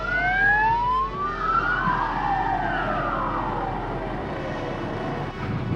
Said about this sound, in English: if you're ever out riding or out driving and you see an emergency vehicle coming, just get out of its way